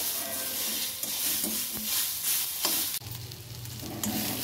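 Onion, garlic and tomato fry together in a pan for a mixed vegetable dish, giving a dense, continuous sizzle with intermittent stirring scrapes, moderately loud and close.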